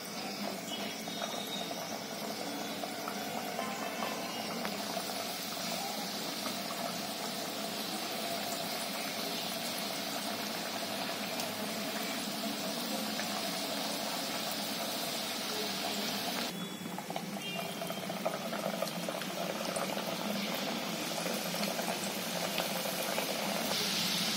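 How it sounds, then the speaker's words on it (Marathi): Pieces of maida dough for crisp khari frying in hot oil, a steady broadband bubbling hiss that stays loud and continuous throughout, with a slight shift partway through and no voices. "तेलात सोडते"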